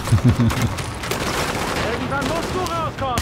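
Rapid gunfire bursts from a shooter in The Division, sharp and repeated over about three seconds, with heavier thuds early and a voice talking over parts of the firing.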